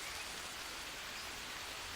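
Steady rain in the survival video game Green Hell, a dense, even hiss of falling drops with no gaps, moderately quiet and uninterrupted by voices.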